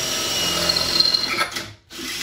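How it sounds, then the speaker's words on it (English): A power drill whirs steadily at close range for over a second while drilling a hollow tube on a Porter Cable 5500 watt generator, its pitch wavering slightly, then cuts out briefly before spinning up again. "So let's go ahead and get this drilled."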